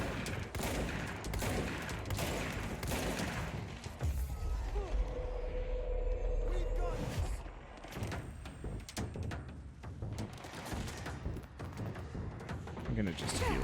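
Rapid bursts of barrage weapon gunfire from the video game Control crack out in clusters amid impacts and action noise, loud and close, with someone talking over much of it.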